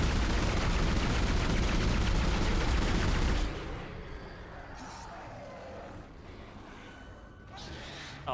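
Gunfire from the Dead Space video game fills the first three seconds as a loud, continuous burst of rapid shots, then gives way to quieter game sounds.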